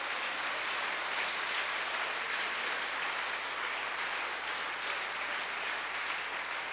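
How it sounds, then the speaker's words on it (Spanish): A church congregation applauds giving glory to God, a dense continuous roar of many clapping hands sustained evenly throughout, loud and full with no pauses. "Levante sus manos y dele un fuerte aplauso y dé gloria a Dios."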